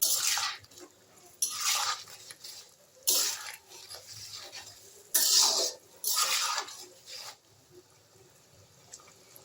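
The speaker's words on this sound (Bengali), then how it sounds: "সব বড়াগুলো আমি ঝোলের মধ্যে দিয়ে একটু নাড়াচাড়া করছি।" Fried lentil dumplings being stirred into gravy in a pan, giving several loud bursts of wet, splashing scraping about a second apart, with quieter gaps between them and no talk.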